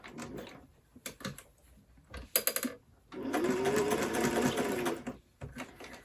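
A sewing machine stitches a fabric laptop case in short forward and reverse runs, with a sustained steady whir in the middle between brief bursts, close and clear.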